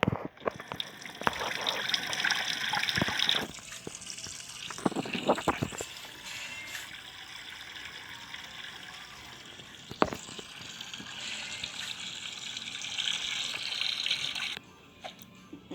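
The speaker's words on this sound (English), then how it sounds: "I'm just gonna wash my hands" Running tap water while hands are washed: a steady hissing stream with splashing that changes as the hands move, the flow shifting partway through, then shutting off near the end. No talking.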